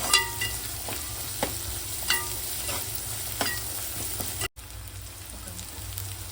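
Spices and turmeric frying in a pan, a soft continuous sizzle with regular scraping stir ticks about once a second and a momentary gap near the end.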